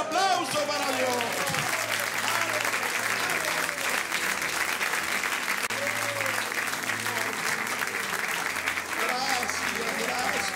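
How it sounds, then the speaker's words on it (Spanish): A crowd applauds loudly and steadily throughout at a church service, with voices talking and calling out over the clapping. "Un aplauso para Dios."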